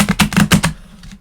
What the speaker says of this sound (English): You hear that shuffle? That was a bad shuffle